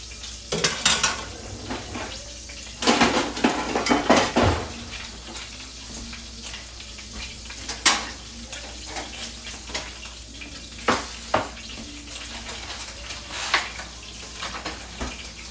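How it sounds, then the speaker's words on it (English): Eggs crack into a pan and fry during keto meal prep, with a spatula scraping and clattering against the pan and soft sizzling underneath, repeated sharp knocks and clinks over a steady background hiss. "Now, I'm going to crack some eggs in here and get an actual pancake turner."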